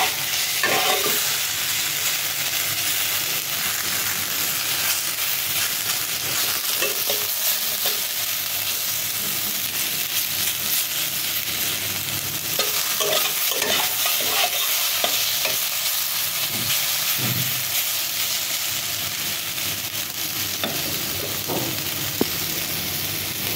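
Food frying in a pan and being turned over, a steady bright sizzle with occasional scraping and clinking of the spatula, close and without talk.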